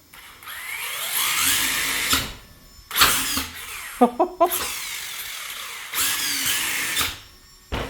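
A carbon fiber Omni-Terminator RC car on stock gearing revs its electric motor in several loud bursts, a high whine rising and falling, with short quick blips between longer pulls.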